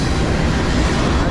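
A freight train on a CSX and Norfolk Southern line rumbles past close by, a loud, continuous roar of wheels and rail noise with no voices.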